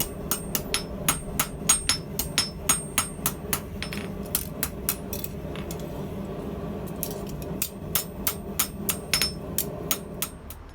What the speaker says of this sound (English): I can easily hammer the desired curve back into the handle